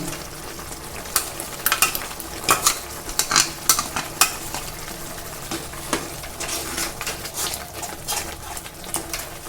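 Ground spice paste of ginger, garlic and fried spices frying in a pan for chicken curry, close, busy sizzling broken by repeated sharp scraping stirs, no voices.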